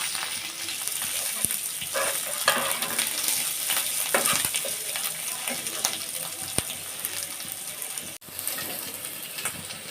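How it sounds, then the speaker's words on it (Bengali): Garlic paste, ginger paste and chopped onion fry in a pot for chicken khichuri, making a continuous moderate hiss with scattered crackles and pops and a momentary dip near the end. "আর দিয়ে দিব রসুন বাটা আদা বাটা পেঁচ কুটানো দিয়ে আমি ভালোভাবে ভেজে নেব"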